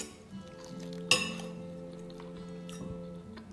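Knife and fork clink on a plate during a meal of roast chicken, with one sharp ringing strike and a few lighter taps, close and clear in a quiet room.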